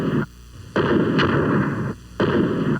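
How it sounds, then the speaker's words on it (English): Rifle gunfire hits a Master Lock padlock in a 1982 television commercial, heard as loud, booming, sustained bursts of noise with two short gaps between them. "Bulletproof that master locks are tough under fire."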